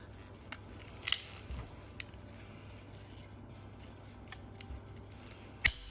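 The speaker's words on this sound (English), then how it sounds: "I'm cutting it over the mosaic, which I wouldn't normally do, because I don't want to get dust all over it, or little splinters from the tile" Tile nippers snip mosaic tesserae for a traditional-style mosaic, producing a few sharp, close clicks and cracks spread unevenly over a quiet room background.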